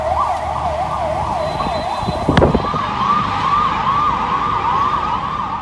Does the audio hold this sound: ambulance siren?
yes